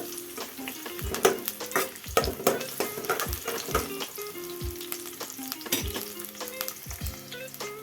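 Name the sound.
onions frying in hot oil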